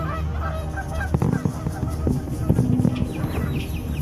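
Several geese honk repeatedly from a nearby island, a busy chorus of overlapping calls that sounds fairly close and steady throughout, with occasional louder bursts and no talking.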